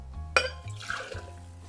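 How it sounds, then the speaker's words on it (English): Beachcomber's Punch cocktail poured into a shaker, a brief close liquid splash with a light clink at the start, then fading trickle; no talking. "let's pour it into our shaker."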